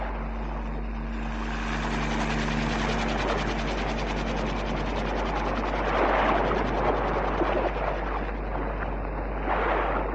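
A helicopter flies overhead as a sound effect in a vintage radio drama, its rotor chop and engine drone steady and continuous, swelling slightly louder near the end.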